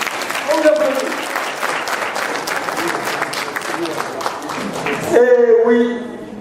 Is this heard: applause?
yes